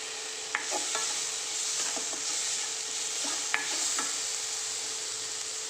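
Green chillies and masala powder fry in oil in a pan with a continuous close sizzle, punctuated by a few sharp clicks of a spoon scraping and stirring.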